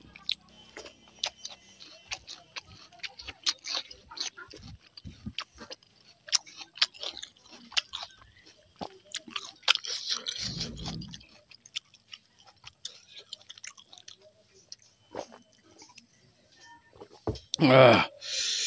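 Close, wet chewing and lip smacks come from someone eating koi fish curry with rice, with soft clicks and quiet pauses and a louder bite or sigh near the end.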